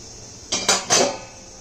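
Metal lid lifted off a cooking pot of steamed kodo millet (varagu) puttu, with the stove switched off. Three quick metallic clanks and scrapes follow in close succession, fairly loud and without talk.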